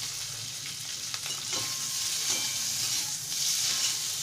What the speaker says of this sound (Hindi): हम हाथों से क्रश किया हुआ आलू उबले हुए भून लेंगे थोड़ा सा